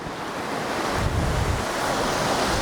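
Big ocean waves crash on the shore in a continuous loud roar, with surf wash and wind buffeting the microphone and no voices present.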